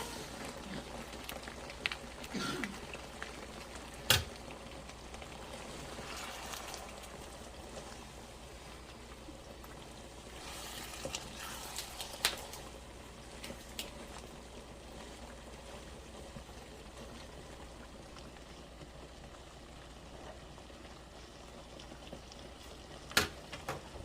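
Broth simmers in a pan of Southern-style turkey hash, a steady faint bubbling and sizzling hiss with occasional small pops and clicks throughout.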